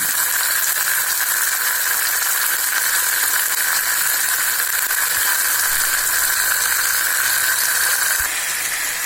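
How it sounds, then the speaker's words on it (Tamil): Tomatoes sautéing in oil in a pan for tamarind kuzhambu, a steady close sizzle with a faint hiss that runs unbroken for the whole stretch and eases slightly near the end, with no talk. "தக்காளி நல்லா வதங்கட்டுங்க."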